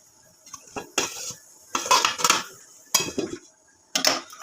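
Metal pot lid set down on a pot of chicken biryani meat simmering in water to boil, a few sharp clanks and clatters of cookware in separate bursts, close and fairly loud, with no talking.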